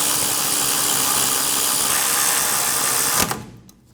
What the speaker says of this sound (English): Install the caliper bracket bolts. Snug the bolts down.